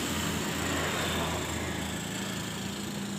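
A Honda CRF150 motorcycle engine, freshly rebuilt with new cylinder block, head and valve springs, runs steadily with a continuous buzzing drone close by, no talk over it.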